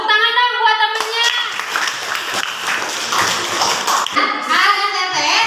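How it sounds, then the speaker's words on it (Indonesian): A classroom of children breaks into a short burst of clapping for a classmate, a busy patter of small hands lasting a few seconds, framed by someone talking before and after. "Tepuk tangan dong buat temennya"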